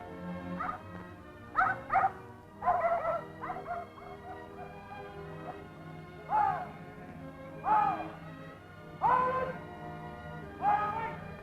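Farm dogs bark and yip repeatedly at a middle distance while mustering and driving sheep in New Zealand, in short bursts spread across the scene, with a faint hum of activity in between.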